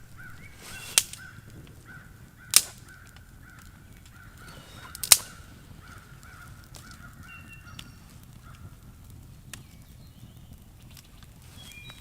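Crows calling outdoors at a campsite, a few loud harsh caws spaced several seconds apart over a quiet background of faint ambient noise, with no one talking.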